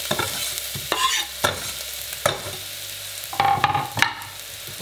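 Chopped shallots and garlic sauté in hot oil in a pan, a bright sizzle broken by repeated scraping stirs of a utensil, each stroke loud and close.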